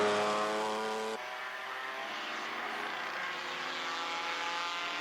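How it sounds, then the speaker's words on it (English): A race car engine drones steadily at a distance during a 1989 Firestone Firehawk endurance race at Tremblant, its pitch shifting as the car pushes hard around the circuit, with no voices. "the Firebird has now moved into the lead, but he's driving hard, and this isn't a sprint, Ken"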